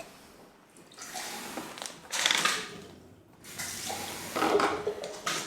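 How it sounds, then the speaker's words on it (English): Glasses rinsed under a running tap, with two bursts of splashing water about a second long each and a quieter trickle between them, close by. "I'll just rinse these glasses quickly."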